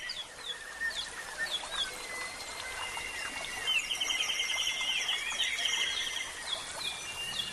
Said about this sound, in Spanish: arropado por el sonido del canto de los pájaros